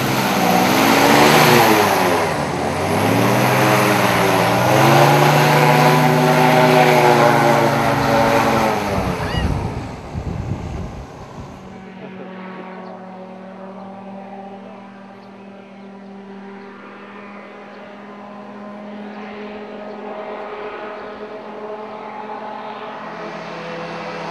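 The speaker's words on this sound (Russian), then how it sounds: "яким аероглісером рятуватимуть кременчужан." An airboat used by divers for rescue in Kremenchuk drones loudly with its engine and propeller, a strong rising and falling roar that drops away sharply midway and settles into a lower steady hum.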